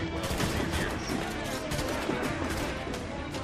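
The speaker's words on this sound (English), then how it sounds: "Eagle Vision is actually really good for firing the swivel cannons" Swivel cannons firing from a ship in Assassin's Creed IV: Black Flag, a dense, continuous barrage of overlapping shots and cracks amid loud battle noise, with faint voices mixed in.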